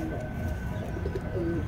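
Pigeons cooing in a loft of madrasi pigeons, soft low rolling coos close by over a steady background hum.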